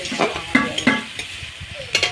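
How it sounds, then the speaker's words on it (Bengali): Salted onion sizzles in a pan while a utensil scrapes and stirs in a few quick strokes, close and clear. "পেঁয়াজটা বেশ ভালো ভালো করে ভেজে নেবো"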